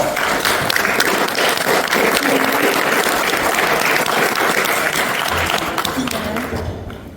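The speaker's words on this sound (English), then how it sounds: "Let's give our panelists a round of applause." An audience at a panel of Indigenous veterans gives sustained, dense applause that holds steady and then tapers off near the end, with a voice briefly heard through it.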